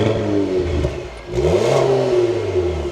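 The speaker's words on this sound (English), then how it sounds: "let's fire this up again and take a listen to how it sounds." A 2026 Cadillac CT5-V's engine revs hard in two rising blips, falling back between them, loud and close with no talking.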